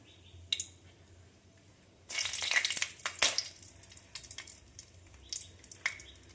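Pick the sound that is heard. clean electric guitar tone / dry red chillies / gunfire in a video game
dry red chillies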